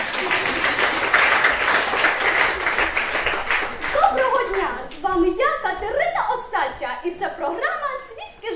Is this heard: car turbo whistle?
no